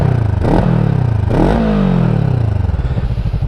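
A VOGE 500DS adventure motorcycle engine revs up twice in quick bursts, then its pitch falls away as it settles back toward idle, loud and close with no talking.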